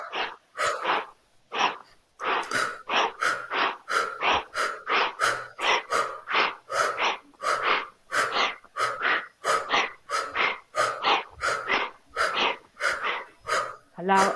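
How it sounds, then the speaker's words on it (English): Deep belly breathing in a guided session: a long series of loud, close, rhythmic inhales and exhales, each a distinct breathy burst, repeating steadily with brief pauses between them. "Remember to breathe from the belly."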